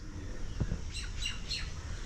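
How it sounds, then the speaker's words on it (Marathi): A peacock calls near an old temple close to Somnath, giving a few faint, high squawking cries in quick succession over quiet outdoor background. "अरे इकडे मोराचा आवाज येतोय"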